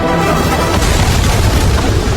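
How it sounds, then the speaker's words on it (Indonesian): A loud, sustained dynamite explosion rumble, deep and roaring throughout, with no voices. "Tom yang melihat ledakan itu dari kejauhan yakin Mike dan adiknya sudah tewas"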